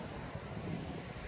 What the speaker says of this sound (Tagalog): Sa lakas pa ng hangin hanggang ngayon.